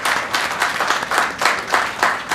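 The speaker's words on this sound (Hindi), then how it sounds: "उसके लिए सरकार को एक बार ताली बजा के सब लोग धन्यवाद करिए।" A crowd claps in thanks to the government, loud and close, in rhythmic bursts that swell and fade roughly every quarter second.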